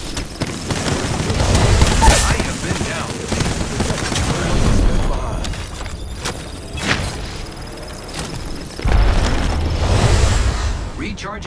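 Gunfire and explosive booms in the battle royale game Apex Legends, recurring bursts of shots and blasts in waves, loud and close, with voices speaking over the fighting.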